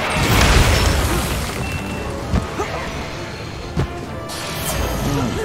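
A loud booming blast in the game Monster Hunter Rise opens with a heavy low rumble, followed by a few smaller thuds and hits as it fades.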